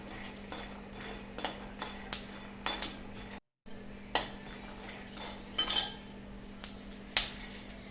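Peanuts dry-roasting in a pan are stirred with a metal spoon, giving sharp scattered scrapes and clinks against the pan over a low steady hum, with one brief silent gap.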